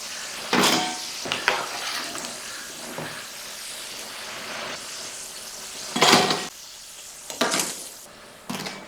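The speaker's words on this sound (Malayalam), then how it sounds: "ഇപ്പോൾ നമ്മൾ നേരത്തെ വറുത്ത് വെച്ചിരിക്കുന്ന പോലെ തന്നെ ഇത് റെഡി ആയിട്ടുണ്ട്" Kerala-style potato fry cooks in hot oil with a low continuous sizzle, broken by several sharp bursts of stirring and scraping in the pan.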